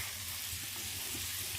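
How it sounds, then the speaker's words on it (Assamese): Mustard and nigella seeds spluttering in hot oil in a wok, a dense continuous sizzle and hiss with fine crackles, loud and close, with no talk. "সৰিয়হ ফুটাই"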